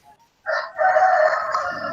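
A rooster crows once, loud and fairly close, with a long drawn-out call heard during a classroom teaching session, and no talk over it.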